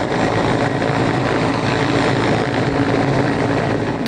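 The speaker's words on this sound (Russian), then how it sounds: "Воздушное судно зависает над водой." Rescue helicopter, a Mi-8, hovering over the sea during a Sochi training exercise: a loud, continuous rotor and turbine roar with dense broadband wash, close and unbroken throughout.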